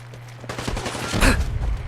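Gunfire in the video game Fallout 4 comes as a dense burst of rapid shots and crackling impacts, loud and close, building to a sharp peak near the end over a low rumble.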